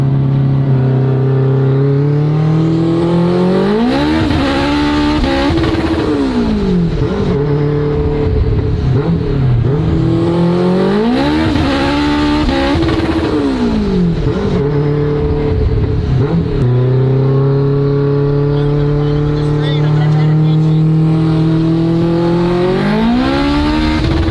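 A turbocharged Honda Civic accelerates hard through the gears on a ride along, loud engine revs climbing and dropping at each shift with a brief tire squeal, continuous and close throughout.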